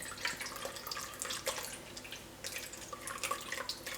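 Chenna being rinsed in water to wash out lemon, with continuous splashing, dripping and sloshing close by, moderately loud and uneven, no voices.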